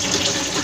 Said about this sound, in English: As you can see, water is coming in.